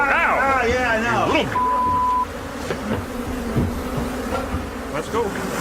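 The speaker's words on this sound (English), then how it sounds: "Killer bees have a unique and chilling characteristic." An attacking swarm of killer bees boils out of a disturbed hive, a dense close buzz with individual insects whining past, as a voice talks over it.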